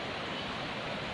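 A small forest stream flowing near a rock cave trail, a dense steady rush of water filling the whole moment at moderate loudness, with no voices or other sounds breaking through.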